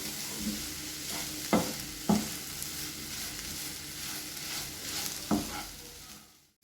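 Vegetables and masala powder stirred together in a pan, with a soft steady sizzle underneath and a few sharp scrapes of the spoon against the pan, close and unaccompanied by any voice.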